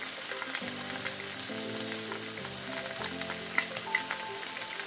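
String beans sauté with oyster sauce in a pan, giving a steady, even sizzle under soft background music, with no talking.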